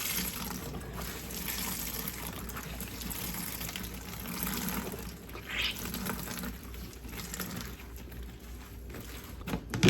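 Water squeezed and wrung out of a wet towel after rinsing salted relish vegetables, a continuous close splashing and trickling with a brief surge partway through.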